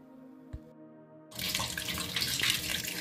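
Running tap water splashes onto freshly cut jute leaves in a sink, a steady rushing wash that starts abruptly after a brief clink and continues loud and close.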